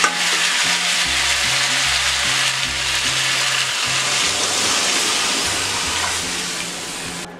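Fish curry masala (koi fish with cauliflower) sizzles and bubbles loudly in a pan as water is added, a steady frying hiss with a gentle stirring rhythm, and music plays underneath.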